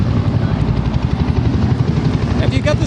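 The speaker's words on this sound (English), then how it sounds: "What's going on there with the helicopter?" A helicopter thumps loudly with steady, rapid rotor beats throughout, its engine drone continuous and close, while a voice talks faintly beneath it.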